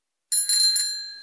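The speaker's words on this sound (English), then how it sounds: "Bicycle." A bicycle bell gives two quick, bright rings close by against silence, and the metallic tone lingers and fades.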